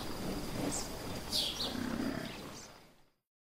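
A lion roar used as a storybook sound effect rumbles low in the middle of the clip, while bright bird chirps and calls ring out around it.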